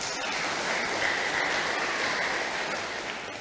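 An audience applauds Pastor Paulus Tony at an evening Bible course session, a steady wash of clapping from a crowd indoors lasting throughout.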